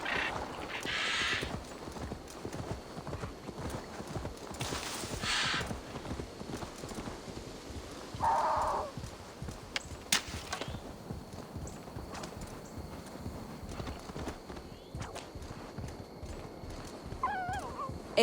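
Horse hooves clip-clop steadily in Assassin's Creed Valhalla, with several short neighs and whinnies breaking in, a faint ambient game backdrop underneath and no talk.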